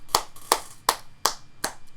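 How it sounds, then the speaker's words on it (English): Applause made of six loud, sharp, evenly spaced claps, close to the microphone and heard alone. "Let's give that brother a round of applause."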